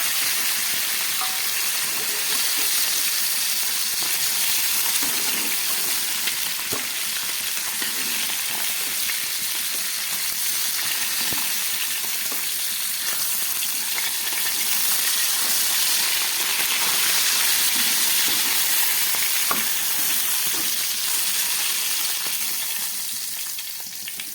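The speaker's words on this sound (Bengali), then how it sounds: "আলুগুলো ভাজা হয়ে গেছে আমি এবার তুলে ফেলছি" Potatoes and bhola fish fry in hot oil, a loud continuous sizzle and hiss with faint stirring clicks, steady throughout with no talk.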